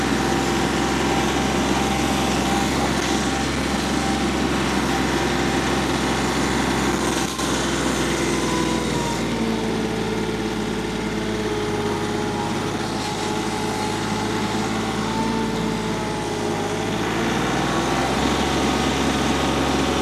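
A small tractor engine drones steadily and loudly while driving over a bumpy route, holding a constant hum with a slight shift in pitch partway through.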